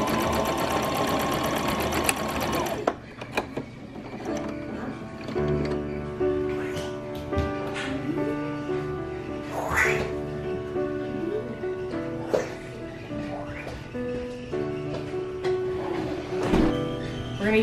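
A sewing machine runs a short burst of stitches on a fabric corner, loud and steady for the first couple of seconds before stopping, followed by quieter handling clicks and rustles.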